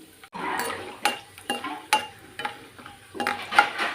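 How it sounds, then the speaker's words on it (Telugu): Peanuts frying in a couple of spoons of oil in a kadai, with a soft sizzle and repeated scraping, clinking stirs of a spoon against the pan at irregular intervals. "కళాయి పెట్టుకుని ఒక రెండు స్పూన్లంతా ఆయిల్ వేసుకున్నామండి ఆయిల్ వేసుకుని ఈ పల్లీలు దీనిలో వేసుకున్నాం"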